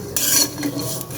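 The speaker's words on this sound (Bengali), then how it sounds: "এই যে শুটকিগুলো আমি ভেজে নিচ্ছি, শুটকি ভেজে তারপর আমি শুটকি রান্না করব" Chapila dried fish fry in a pan with a dense, bright sizzle and rasping stir, a loud burst at the start followed by quieter crackling and a brief utensil scrape near the end, no talking.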